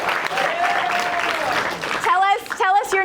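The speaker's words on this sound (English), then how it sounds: "Let's give him a round of applause." An audience at a HOBY youth leadership keynote applauds briefly, the clapping followed by a loud whoop and a voice, all sounding close and lively in a large room.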